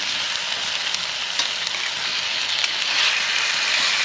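Chicken sizzles and crackles in a pan while being stirred over a campfire on a rainy night at camp, a steady close frying hiss with occasional scraping stirs.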